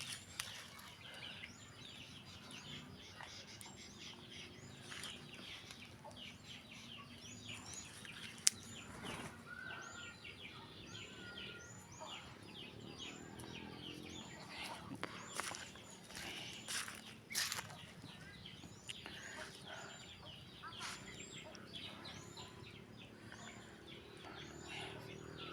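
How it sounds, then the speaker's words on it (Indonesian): Yellow-feathered kacer birds calling in a durian orchard, many faint repeated chirps and whistles overlapping against a quiet outdoor background, distant and soft. "di kebun durian banyak burungnya, berbulu kuning,"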